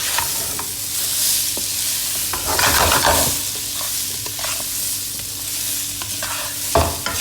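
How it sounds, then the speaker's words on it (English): Chopped boiled potatoes tossed into masala in a pan for dry masala aloo, loud continuous scraping and stirring over a steady sizzle, with rhythmic spatula strokes throughout and no voices. "Adding in chopped boiled potatoes, giving a nice mix."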